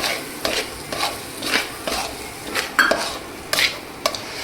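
Roasted semolina being stirred with grated coconut and milk powder in a pan for rava coconut ladoo, rhythmic scraping strokes about every half second over a soft sizzle, close and fairly loud, with no talking.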